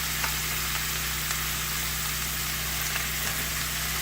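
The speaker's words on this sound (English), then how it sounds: "we are going to add a medium chopped onion" A medium chopped onion sizzling steadily in a pan for stuffed cabbage rolls, with a constant frying hiss, faint stirring taps and a low hum underneath.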